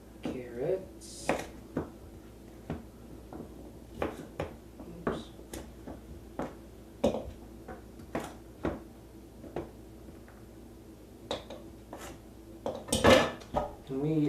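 A knife chops the ends off carrots on a board in a home kitchen, a series of sharp, moderately close knocks spaced irregularly, with a clatter near the end.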